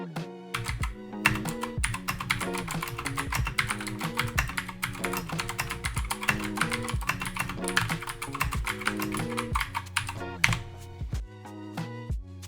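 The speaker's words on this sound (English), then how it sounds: "Just hear out the sounds it makes when you're typing." Typing on a Keychron K2 V2 wireless mechanical keyboard at a desk, with a dense, steady stream of clacky keystrokes close up and loud throughout, including a brief pause near the end.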